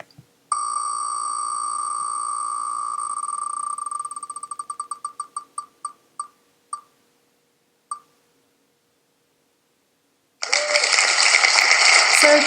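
An online wheel of names spins: a rapid, steady electronic ticking buzz slows into separate clicks that space out and stop, followed after a pause by a loud burst of celebratory fanfare noise.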